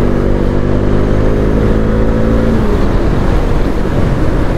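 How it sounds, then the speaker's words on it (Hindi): Royal Enfield Interceptor GT 650 motorcycle with stock exhaust riding on the open road, a steady loud engine drone with rising harmonic tones as it accelerates, then rougher broadband road and wind noise with no speech. "इंटरसेप्टर GT 650 भाई ने जो स्टॉक एग्जॉस्ट वो लगा रखे हैं इसलिए साउंड इतनी आ नहीं रही"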